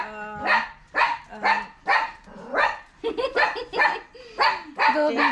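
Several dogs at a dog rescue in Moalboal bark in a steady run of sharp, close barks with some yips mixed in, about ten in quick succession.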